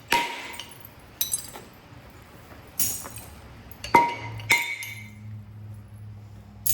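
Sharp hammer strikes chip at a gold jasper slab, giving several distinct, bright clinking cracks spaced a second or so apart, each with a short ringing tail, against a quiet background.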